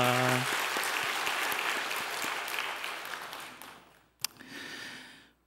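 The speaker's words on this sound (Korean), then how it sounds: "함께 찬양해 주는 우리 어린이들도 한번 격려하는 박수 해 주세요." A church congregation at a Sunday service applauds to encourage the children's choir, with a broad wash of clapping that fades gradually over several seconds and ends with a brief sharp sound and faint voices.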